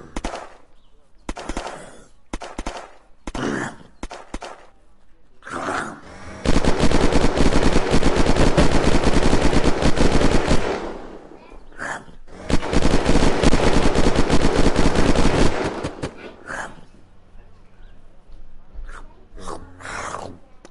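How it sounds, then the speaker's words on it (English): Long bursts of loud, close automatic gunfire in the survival game Unturned, separated by quieter gaps with scattered single shots and faint background noise. "I'm getting shot at."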